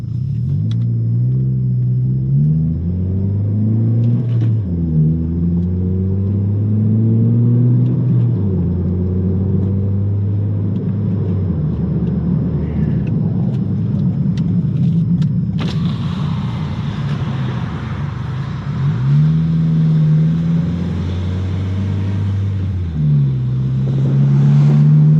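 A Toyota Corolla Hatchback fitted with a 2J Racing catback exhaust drives past at close range from the driver's view. Its deep exhaust drone rises and falls through gear changes and steady cruising, with road rumble underneath.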